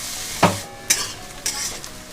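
Onions fry in hot oil with a continuous close sizzle, broken by three sharp scraping stirs of a spatula against the pan at roughly half-second intervals.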